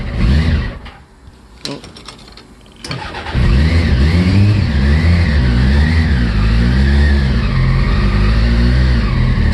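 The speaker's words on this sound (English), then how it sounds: "You put your foot on the clutch and just turn the ignition." A Westfield Megablade Turbo engine cranks over after a few clicks and catches, then settles into a loud, rumbling idle with rising and falling revs close by. A person makes a brief exclamation.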